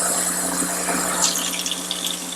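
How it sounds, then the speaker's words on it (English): Warm tap water pours steadily into a measuring cup for pizza dough, a close, continuous hissing gush with a slight rising fill tone. "Let's go ahead and grab 2/3 of a cup of water."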